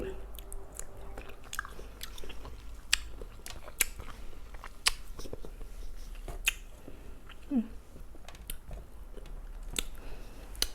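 Biting and chewing a Norwegian strawberry up close, with soft squishy bites and scattered wet clicks and smacks spread across a quiet background.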